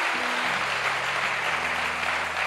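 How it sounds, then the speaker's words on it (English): A church congregation applauds during a sermon, a steady, dense wash of clapping from a large crowd that holds evenly for a couple of seconds. "Give the Lord a big round of applause."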